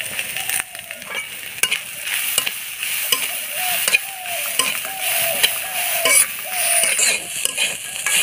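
Hot dried chilies and coconut fried together in a pan in a village kitchen: a bright, steady sizzle broken by repeated scraping and clattering spatula strokes, close and fairly loud.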